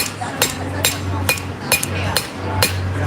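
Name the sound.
forging a knife with a cross peen hammer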